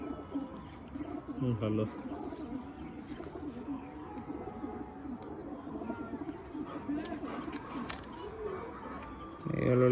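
Pigeons in a Madras pigeon loft coo in low, repeated rolling phrases beneath someone speaking briefly, with louder voice bursts at the start and end.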